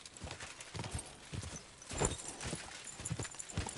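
Horse hooves galloping in Kingdom Come Deliverance 2, a rapid uneven clatter of hoofbeats close by over a soft background, with no talk.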